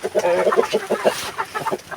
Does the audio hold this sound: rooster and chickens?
yes